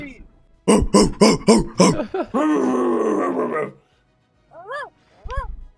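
A man imitates little dog noises with a quick run of short, yappy yelps that slide into a drawn-out growling groan, then two more isolated yips after a pause, all close and loud during a Pokémon Unite gaming session.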